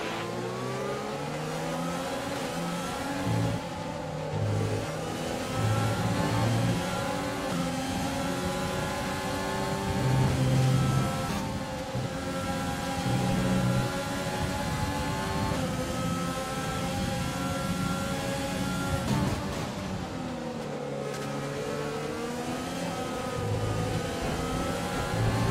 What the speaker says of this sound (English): Engine is looking a little worn. Power output will be less than optimal.